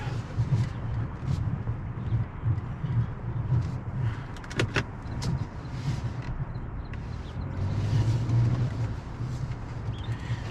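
A 2022 Nissan Rogue's engine idles and rumbles low while it shuffles back and forth in a multi-point turn, with faint mechanical clicks and creaks from inside the cabin, steady and moderately close.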